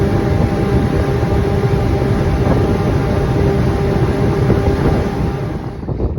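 Yamaha jet boat engines run steadily during a throttle sync test, a loud continuous rumbling drone with a faint tonal hum, heard alone without talk and easing slightly toward the end.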